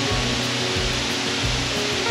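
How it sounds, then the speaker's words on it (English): A big waterfall roars as a steady, dense wash of rushing water at Rock Island State Park, heard continuously without speech. "I can hear the big waterfall."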